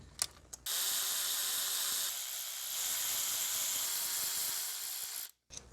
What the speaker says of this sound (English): let's start with a 10mm and remove all the bolts around it. I'm gonna loosen them up first.